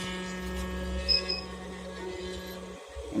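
Changi CJ-1000Q pure sine wave inverter set on cardboard and powering a half-horsepower air conditioner gives off a loud, steady electrical hum with a constant low drone and faint higher whine, briefly dipping near the end.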